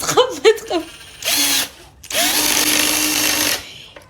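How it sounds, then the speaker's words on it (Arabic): A handheld power drill, run during household cleaning by someone using one for the first time, whirs in two bursts, a short one and then a longer steady run, loud and close, after brief talk and laughter. "شو اسمها؟ دريل صح؟"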